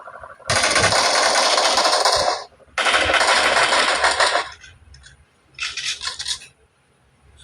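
Rapid automatic gunfire in a shooting video game, two long sustained bursts followed by a shorter, choppier one, loud and up close, with brief quiet gaps between bursts and no talk over it.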